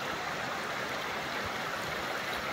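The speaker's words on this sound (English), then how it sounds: "I don't think anyone would have heard us with the noise of the river" A river in high hunting country rushing steadily, an even, continuous roar of flowing water close by with no breaks and no voices.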